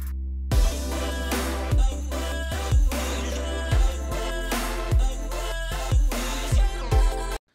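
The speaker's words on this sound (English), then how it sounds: "what you're hearing is a lot of keys and pads" Future house production with synth keys and pads triggered as chords plays steadily over punchy repeating kick hits, full and continuous with no voices.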